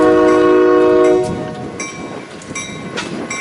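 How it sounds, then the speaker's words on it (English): An eastbound freight train on the main line at Fremont, Nebraska sounds a loud, sustained chord horn nearby, then the horn stops and a steady rumble of rolling cars with clicking wheels continues. "we have an eastbound coming on the main line"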